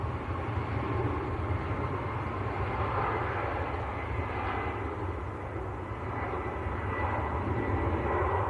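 A Ryanair Boeing 737 Max jet at Manchester Airport gives off a steady, broad roar of jet engines that holds loud and constant throughout, with no voices.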